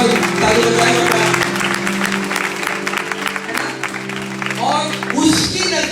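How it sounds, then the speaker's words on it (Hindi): A church congregation at a Resurrection Day service claps, broad mixed applause under a steady musical drone, with some voices and cheering rising toward the end. "मेरे वाइफ के लिए कल ताली बजाएगा"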